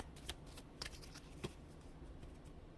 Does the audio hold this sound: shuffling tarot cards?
yes